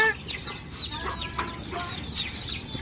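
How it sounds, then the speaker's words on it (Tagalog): Chickens clucking and squawking in a busy farmyard chorus, several birds close by with overlapping calls and steady background noise. "Pinapasok ng Tatay Risa ng mga manok"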